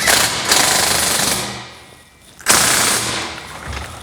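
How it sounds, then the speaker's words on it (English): Bolts on a Gladiator JT LoadOut bed rack are tightened with a 1/2 inch socket, heard as two loud, close, rattling bursts of a power driver separated by a brief pause. "tighten all hardware using a 1/2 inch socket or end wrench"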